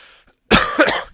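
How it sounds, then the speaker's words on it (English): A single harsh cough bursts out close and loud after a short quiet pause, with a second rougher hack following right behind it. "Cough."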